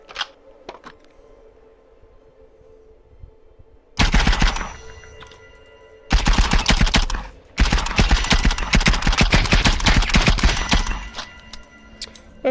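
Grease gun firing in The Light Brigade VR 2, loud close bursts of rapid automatic fire in three bursts after a quiet stretch, the last burst long and sustained.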